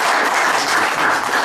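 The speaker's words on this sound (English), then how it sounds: "I'd like to start out by just giving them a warm thank you and having you give them a round of applause." A room of supporters at a fundraiser speech bursts into a round of applause, thick continuous clapping from many hands, loud and close, filling the whole moment without any talk.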